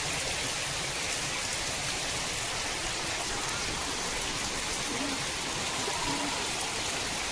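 Heavy rain drums steadily on a tarpaulin draped over a pigeon coop, a dense, unbroken hiss and patter close by that holds constant throughout.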